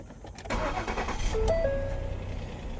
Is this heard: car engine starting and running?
yes